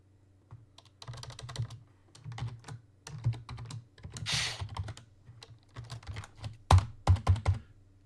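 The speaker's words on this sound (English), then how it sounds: "You hit the keyboard too hard." Someone types on a computer keyboard with a faulty R key, striking it hard in quick irregular bursts of close, crisp clacks separated by short pauses.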